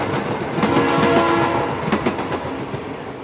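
A passing train sounds its horn in repeated blasts over rhythmic clattering of wheels on rails, loud and close, with no voices.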